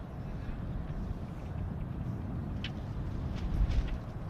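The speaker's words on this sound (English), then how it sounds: "So it's getting pretty windy here." Wind blows steadily outdoors at a cricket ground in Brescia, Italy, a low rumbling gust against the microphone, with a few faint brief sounds in the distance.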